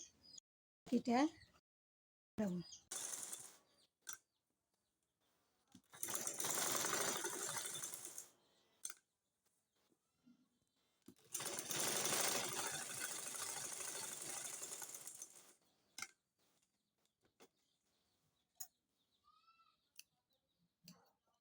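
A sewing machine stitches the fabric panels of a maxi dress in two sustained runs of a few seconds each, separated by clicks, handling noises and brief quiet gaps.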